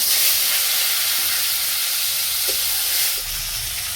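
Dried chillies and tomato frying in leftover oil in a wok, a loud dense hissing sizzle that fills the whole stretch and eases slightly toward the end, with faint clinks underneath.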